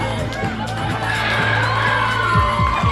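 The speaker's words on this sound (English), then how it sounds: "give her a round of applause because she looks amazing" A crowd cheers and shouts at a youth fashion show in South Auckland, loud and close, with whoops and children's voices among the chatter and an announcer talking over it.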